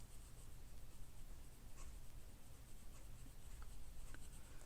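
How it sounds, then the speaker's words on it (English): A pencil shades slowly in circles on drawing paper, making a faint, continuous, close scratching rub that lasts throughout, with no voices. "So what I'll do is slowly go round and round with the pencil."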